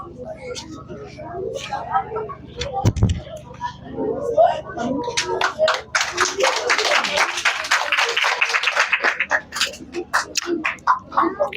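Audience at a debate competition clapping after a speaker finishes, scattered claps building into a dense burst of applause, close and fairly loud with some murmuring.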